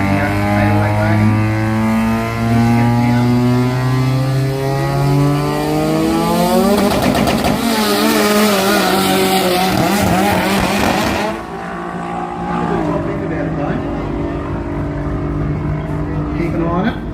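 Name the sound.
808 wagon car racing down the track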